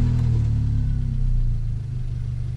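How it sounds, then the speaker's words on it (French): A Toyota Yaris 1.0 VVTi engine rumbles low and steady, settling into an even idle after starting, close by. "je démarre, vous allez entendre le bruit du moteur"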